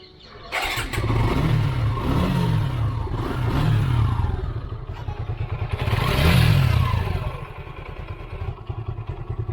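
A Suzuki Gixxer SF motorcycle engine cranks and catches after an oil change, then idles with a throbbing rumble, revving up twice before settling back to a steady run.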